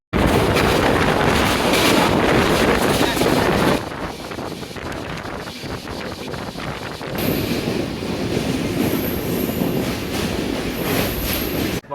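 A late-running passenger train from Kolkata to Varanasi rattles along the rails with loud, constant wheel rumble, screeching wheel squeal and wind buffeting. The noise drops in level partway through, then continues steadily.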